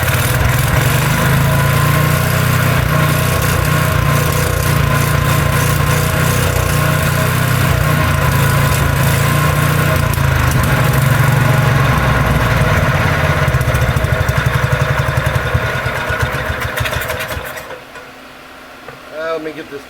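A Kohler K301 single-cylinder engine fitted with a Walbro carburetor idles loudly and continuously with a deep, uneven rumble, then dies away near the end, with some voice mixed into the noise.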